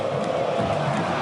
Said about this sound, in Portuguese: Torcida do São Paulo enlouquece na Vila Belmiro.